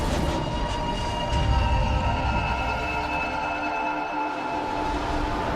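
A train in the video game Deus Ex Mankind Divided rumbles steadily with a low, continuous rolling drone and faint high tones running through the whole stretch, with no voices.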